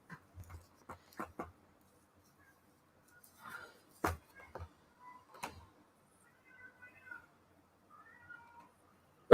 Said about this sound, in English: somebody's cat's crying